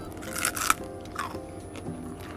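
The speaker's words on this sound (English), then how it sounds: "It's pretty crunchy, but it still has some give." Crispy cooked tofu being bitten and chewed, a few sharp crunches close up in quick succession, then fainter chewing against a quiet background, no talk.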